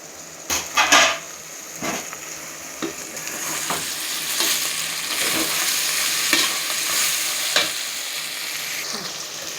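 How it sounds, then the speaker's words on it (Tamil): Bitter gourd frying in plenty of oil in a pan, a continuous loud sizzle with a few utensil scrapes and clinks early on, close and without talk. "இந்த அளவுக்கு நல்லா எண்ணெயிலேயே வெந்து வரட்டும்"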